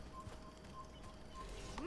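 Horse hooves clopping in the video game Assassin's Creed, a steady run of clip-clop steps at moderate distance over game ambience, ending with a brief rising whinny-like sound.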